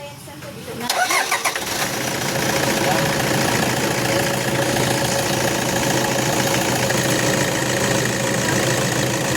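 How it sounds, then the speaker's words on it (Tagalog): An engine cranks and catches after about a second, then settles into a steady, loud running idle that continues to the end, with a person talking nearby. "Kailangan naka-andar tong makina."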